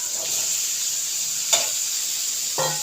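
Boiled white chickpeas dropped into a pan of sautéed onion and tomato, a steady close sizzle with a few brief stirring scrapes throughout.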